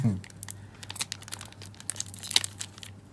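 A Naruto card game booster pack wrapper is torn open by hand without scissors, giving soft, close crinkling and a few sharp tearing rips over a low steady hum.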